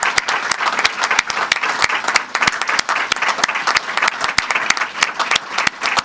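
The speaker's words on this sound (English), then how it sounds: "I wish we'd give all of them a round of applause." A press conference audience breaks into sustained applause, many hands clapping densely and evenly at close range with no voices over it.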